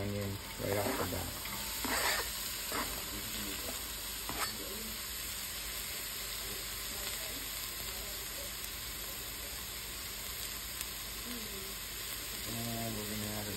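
Chopped onion sizzling in a hot frying pan, a continuous bright hiss with bursts of stirring and scraping, while a person talks quietly at times.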